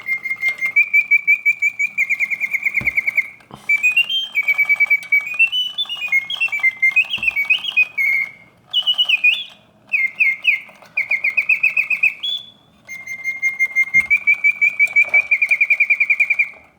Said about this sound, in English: a vintage Reuge double singing birdcage in outstanding condition that's been fully serviced